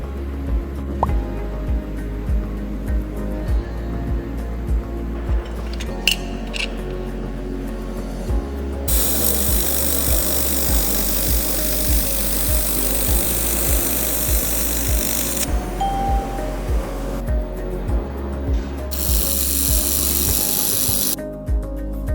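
An air-cooled laser welding machine welds thin aluminum, giving a loud continuous buzzing hum with a steady rapid pulsing rhythm and brief brighter hissing bursts, with no talk.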